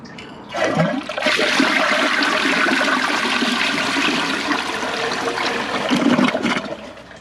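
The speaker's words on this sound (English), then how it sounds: "Let's give this a flush." A 2004 Eljer Patriot toilet with replacement tank parts flushes loudly up close, a rushing gush of water that starts abruptly, runs for several seconds and tapers into a gurgling refill trickle, with no talking.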